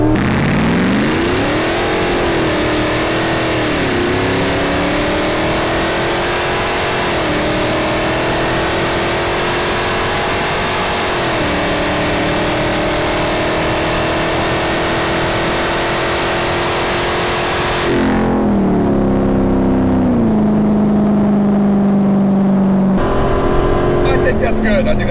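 A 750+ horsepower Hellcat-swapped Jeep Gladiator engine revs hard through a launch with tire spin and rising pitch across gear changes, loud and close, then drops toward a lower drone near the end.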